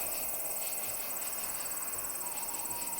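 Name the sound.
train noise in a video game, HauntedPS1 demo disc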